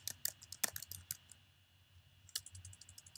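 Quiet keystrokes on a computer keyboard during a drive search, a quick burst of clicks at the start, a pause, then another short flurry of taps near the end.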